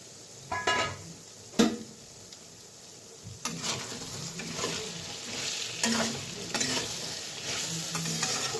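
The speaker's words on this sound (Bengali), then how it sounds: "তো মশলাটা একটু ভালো মতো কষে গেছে" Spice masala for soyabean kosha sizzles and fries in a pan, steady crackling hiss with a few sharp spatula scrapes and clinks, close and fairly loud, no talking.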